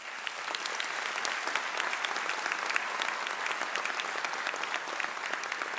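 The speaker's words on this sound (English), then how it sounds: "so a round of applause for them." Steady, dense applause from a graduation audience at a pharmacy doctoral hooding ceremony, honoring the graduates' parents; many hands clapping evenly throughout with no talking.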